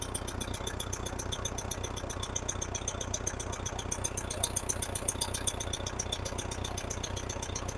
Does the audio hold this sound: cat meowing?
no